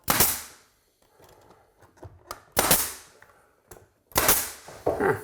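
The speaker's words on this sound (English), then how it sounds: "Just take out the nail gun," A nail gun fires into lightweight crown molding, three sharp loud pneumatic bangs spaced a second or two apart, each trailing into a hiss, with quieter handling clicks between and no talking.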